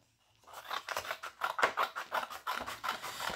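Scissors cut through a paper Advent calendar template in a steady series of crisp, rhythmic snips and scrapes, close and clear, with no voices.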